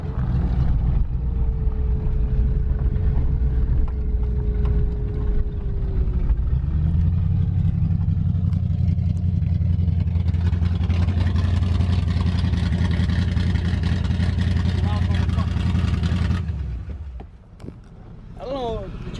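A race truck engine with a worn-out carburetor revs and idles loudly up close, its steady roar rising midway before cutting off near the end, with people talking over it.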